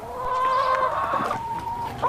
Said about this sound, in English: Claudia Schmidt is raising her family and her chickens in an environment she believed was perfect.